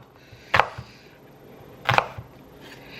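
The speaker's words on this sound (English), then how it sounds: "chop up the apples, and I'm going to put them in a bowl off to the side" Two sharp knife strokes through apple on a cutting board, about a second and a half apart, each a crisp thunk with a brief follow-up tap, close by and otherwise quiet.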